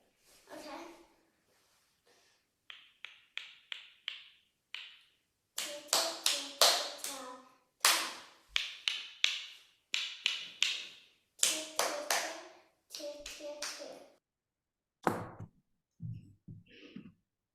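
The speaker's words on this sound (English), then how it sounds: "And clap and say." Hand clapping in short rhythmic patterns during a music lesson on rhythmic notation, bursts of claps separated by pauses, mixed with spoken counting and children's voices saying the rhythm aloud.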